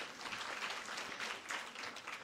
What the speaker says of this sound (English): Give us a round of applause, please.